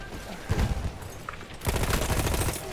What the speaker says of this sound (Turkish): Ulan hiç çok kötü sıktım hiç vuramadım